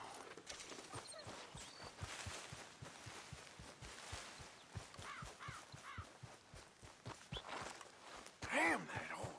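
Horse hooves clip-clop steadily at a walking pace in the Red Dead Redemption 2 video game, a regular rhythm of soft thuds beneath faint ambient noise and a brief vocal sound near the end.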